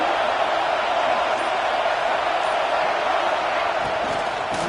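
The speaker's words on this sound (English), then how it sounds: "Listen to the crowd energy here in the early going." A stadium crowd at a Notre Dame versus Clemson college football game, a steady, dense roar of many voices filling the space without pause, loud and continuous throughout.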